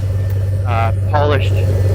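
A 2008 Ford Mustang GT/CS convertible idles through its dual exhaust with 4-inch finishers, a steady low burble heard up close beneath someone talking.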